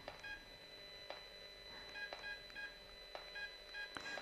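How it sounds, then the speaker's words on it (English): Touch-tone keypad beeps from a landline telephone while placing a call, a series of short evenly spaced dialing tones over a steady background hum, fairly quiet and with no talking. "I want you to hear what it sounds like if you make a call."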